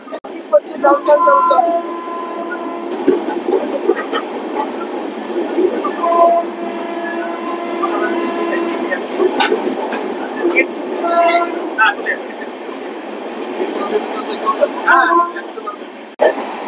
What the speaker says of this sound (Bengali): এখন প্রচুর স্পিডে তার ট্রেন গতিবেগ ধরে নিয়েছে